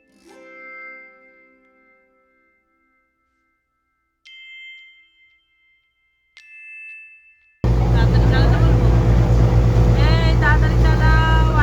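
A motor launch runs on the Brahmaputra river at Guwahati. Scattered bell-like tones come first, then a loud, steady engine drone begins with voices over it.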